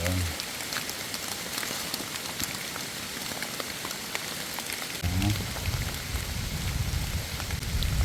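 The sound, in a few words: rain falling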